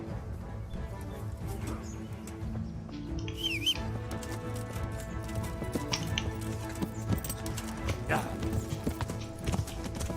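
Horse hooves clip-clop in Kingdom Come: Deliverance, a steady rhythmic trot under battle noise, game music and someone talking excitedly.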